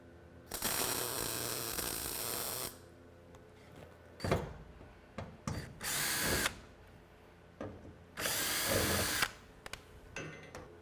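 Power drill backing self-tapping screws out of sheet metal on a Porsche 912 pedal-area repair, three loud whirring bursts of a second or so each, separated by quieter clunks and handling noise, no talking.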